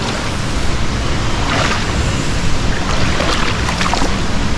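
Constant broadband rushing of a deep waterfall in Bali, loud and close, filling the whole clip with a steady roar and no voices.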